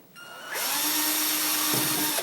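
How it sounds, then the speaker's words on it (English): A power drill spins up and whines loudly at a steady pitch for about two seconds, its tone dipping briefly as the bit bites into a thin aluminum soda can. "I'm going to split that in half and drill a hole"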